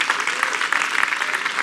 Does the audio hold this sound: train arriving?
no